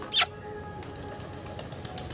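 A white pigeon beats its wings in one short, sharp flurry near the start as it comes down onto a rooftop, followed by a quiet outdoor background.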